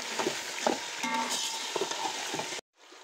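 Chicken frying in a pan with yogurt and tomatoes for a biryani, giving a steady close sizzle with scraping stir strokes and small clinks before it cuts out near the end.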